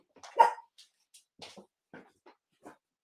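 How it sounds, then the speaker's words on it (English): A dog lets out a loud single bark followed by a series of softer, scattered yips and whimpers at irregular intervals, fairly close in a quiet room. "Why are you barking?"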